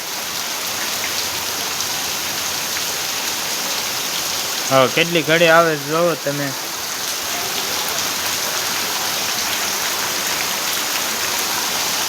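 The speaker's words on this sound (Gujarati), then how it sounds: "વરસાદ હારા મારો પડે છે." Heavy rain pours down on a farm field, a dense steady hiss and patter that stays constant throughout, with someone speaking briefly midway over the downpour.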